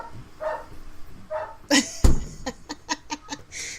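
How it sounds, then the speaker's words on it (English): Dog being played with or roughhousing, giving several quick yips and barks in a short burst amid laughter and scuffling noises close by. "is that them playing with the dog?"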